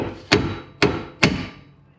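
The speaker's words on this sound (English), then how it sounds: "Grab our little sledgehammer here." A small sledgehammer strikes a CV axle on a 2004 Infiniti FX35 three times, with sharp metallic blows spaced evenly about half a second apart, close and loud, each ringing briefly before the next.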